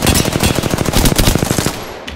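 Rapid automatic gunfire in Apex Legends rattles loud and close in a continuous stream of shots for under two seconds before cutting off.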